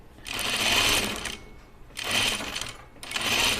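A sewing machine runs in three separate bursts while stitching a quarter-inch seam on a Colette Patterns Dahlia dress. Each run whirs steadily and close, with short quiet pauses between.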